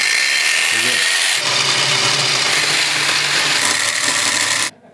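A loud power tool cuts through aluminium sheet with a harsh, steady high-pitched whine and grinding rasp, running continuously before stopping abruptly near the end.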